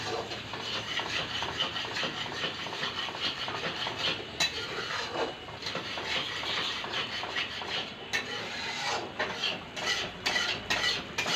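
Chili and garlic sautéing in a pan over a low gas flame, with a steady soft sizzle and occasional clinks and scrapes of a spoon stirring against the metal.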